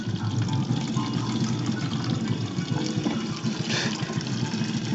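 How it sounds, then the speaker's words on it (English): Tap water rushes into a dented water bottle, a loud, steady, close splashing fill that holds constant with no voices. "we can fill up another water bottle"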